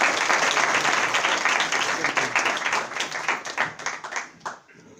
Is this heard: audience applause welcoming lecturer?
yes